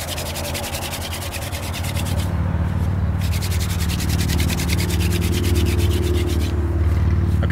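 A wooden hand drill spun between the palms against a hearth board for a Stone Age friction fire, giving a loud, continuous rasping rub with rhythmic back-and-forth strokes that intensify, heard close up and alone.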